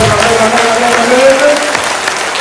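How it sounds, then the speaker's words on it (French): A crowd at a Franciscan family gathering in Lourdes claps steadily for a couple of seconds, broad and close, with singing voices carrying over the applause. "Applaudissez bien sur la main droite"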